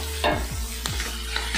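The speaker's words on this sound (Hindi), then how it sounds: "अब इसे हम थोड़ा सा रोस्ट कर देंगे, इसमें फ्राई आ रही है, इसे बीच बीच में फिर कच्ची कच्ची चलाते रहें ताकि ये जले ना," Vegetables fry in a pan for street-style masala noodles, a steady sizzle broken by several quick scraping stirs of a spatula, close and loud with no voices.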